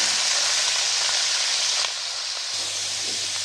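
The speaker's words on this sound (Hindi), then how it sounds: "अब मैं डालूंगी इसमें गोभी और गोभी को हम फ्राई कर लेंगे।" Cauliflower pieces frying in hot oil give a steady, close, hissing sizzle that continues unbroken for the whole stretch, with no talking.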